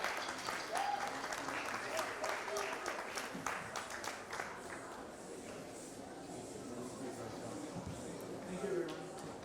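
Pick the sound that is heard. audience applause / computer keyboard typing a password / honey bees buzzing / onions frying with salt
audience applause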